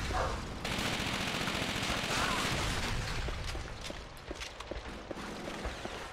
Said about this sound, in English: I know someone's still shooting me from the side